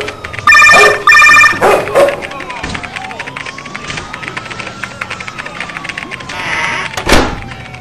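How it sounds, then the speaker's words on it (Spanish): A telephone bell rings in two loud, close bursts early on in a cartoon scene, followed by thumps, a rising whistle-like tone and scattered sound effects. "¡Sonó el teléfono!"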